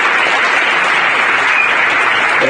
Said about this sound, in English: So I do want to give them a big round of applause because it has been a journey this year.